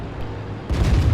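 A WZ-111 tank gun in World of Tanks fires once, a heavy low boom striking near the end of the brief moment after a quiet engine rumble.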